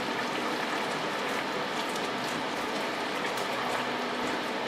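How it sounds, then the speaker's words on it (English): Chicken stew with rosemary simmering in a pot, a steady close bubbling and gentle popping hiss that runs evenly throughout with no talk. "I'm going to let this simmer for about half an hour."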